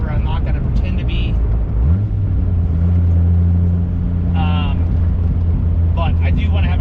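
A Gen 3 Dodge Viper's engine drones steadily and loudly, its pitch rising as it accelerates, with someone talking over the constant rumble.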